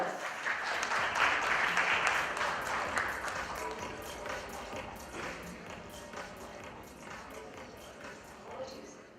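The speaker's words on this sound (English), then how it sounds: "Round of applause." Audience applause for a panel moderator at a principals' conference, loudest at the start and tapering over several seconds into scattered claps, with some speech-like sound mixed in.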